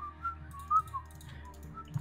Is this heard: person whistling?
yes